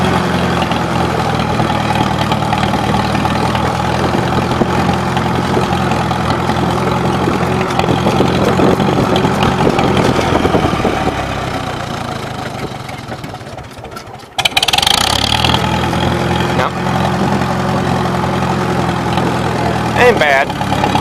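A 1953 Farmall Super H tractor engine runs at a steady, loud drone, dips and fades briefly as the throttle is shoved down, then picks back up to its even running note.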